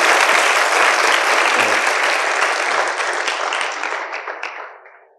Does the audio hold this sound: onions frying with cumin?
no